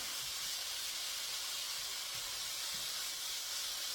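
Philly slider filling of meat cooks in a hot pan, giving a steady, even sizzling hiss close by with no pauses and no talking.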